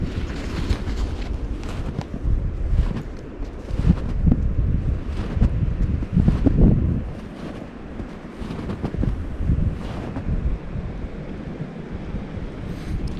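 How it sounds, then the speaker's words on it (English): Strong gusty wind buffets the microphone with loud, rumbling low roar that surges and eases throughout, no voices. "Real windy day."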